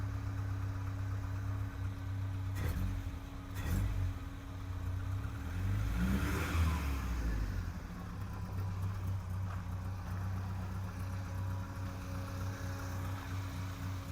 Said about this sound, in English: Let it idle for a couple more minutes.